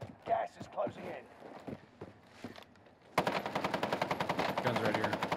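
Rapid automatic gunfire in the video game Call of Duty Warzone erupts midway and keeps going as a dense, steady string of shots. Voices talk over scattered quieter sounds beforehand.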